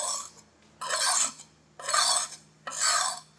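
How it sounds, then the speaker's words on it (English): A coconut husk chips cutting machine blade is drawn across a sharpening stone in three long, gritty scraping strokes with short pauses between, close and fairly loud over a low steady hum. "When you are sharpening this blade, you have to apply more load on this stone."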